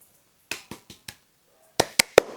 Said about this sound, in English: I'm just clapping for us.